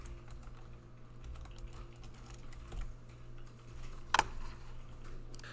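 Someone types on a computer keyboard while entering code for a .NET Core MVC web app, producing soft, quick key clicks at an irregular pace over a steady low hum, with one sharper louder tap near the end.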